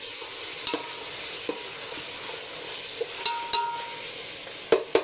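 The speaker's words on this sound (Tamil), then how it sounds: "நல்லா மிக்ஸ் பண்ணி விட்டுருங்க. அப்படியே வதங்கட்டும்." Green chilies, mint and tomatoes sauté in a pan with a soft continuous sizzle, broken by occasional scraping clicks of a spoon stirring against the metal, close and fairly quiet, without talk.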